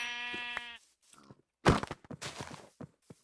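A Minecraft sheep gives a short bleat, followed by game crunches and thuds, nearby, with no talk.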